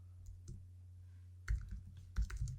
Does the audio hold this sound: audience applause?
no